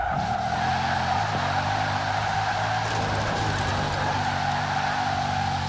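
Bugatti Chiron engine in the video game Forza Horizon 4, a loud sustained roar with steady harmonic tones that shift slightly in pitch, heard alone for several seconds.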